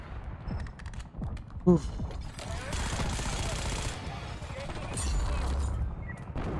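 Pistol gunfire in Black Ops 6 gameplay, a few sharp shots mixed into busy game noise with a player talking and grunting over it.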